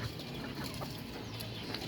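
Chickens on a rooftop farm give soft, faint clucks against a quiet background hiss, brief and somewhat distant.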